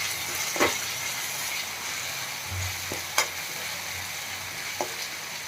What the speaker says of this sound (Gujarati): બધું બરાબર મિક્સ કરી લેશું.